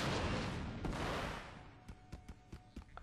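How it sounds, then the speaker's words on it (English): A grenade detonates in Star Wars Battlefront 2, a loud broad blast filling the first second and a half before decaying into a series of sharper, fainter pops and bangs from ongoing gunfire. "Oh, I threw a grenade again."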